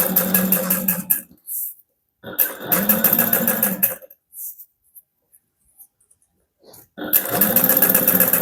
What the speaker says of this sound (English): top stitch down the entire seam using a 1/8 inch seam allowance